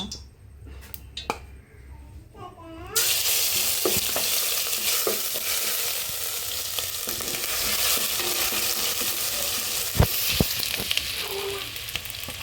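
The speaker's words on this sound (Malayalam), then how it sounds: "അതായത് നമ്മള് ആ ഇഞ്ചി വെളുത്തുള്ളി പേസ്റ്റ് കുറച്ചിട്ട്" Ginger garlic paste frying in a pan while it is being stirred: a steady, close sizzle that starts abruptly after a few quieter seconds, with a few sharp clicks of the utensil against the pan.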